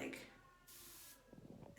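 Nasal spray is released as a single short hissing burst lasting about half a second, close to the mic and quiet overall, with soft breathy handling sounds before and after.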